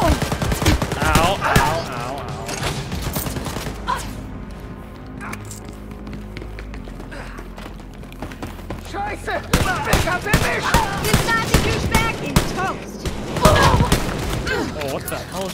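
Enemy gunfire in the shooter game Wolfenstein Youngblood, dense rapid bursts of shots and machine-gun fire with impacts, loud and close, easing briefly mid-way before surging again, with someone talking over it at times.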